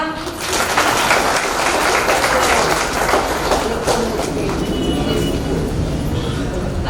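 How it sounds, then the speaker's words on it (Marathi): Applause fills a wedding anniversary party celebrating 25 years of marriage, a dense, steady crowd clapping that stays loud and continuous throughout, with some voices mixed in. "टाळ्या."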